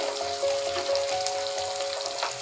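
Onions frying in oil in a pan for Bengali dal, a steady close sizzle with light crackles and no talk.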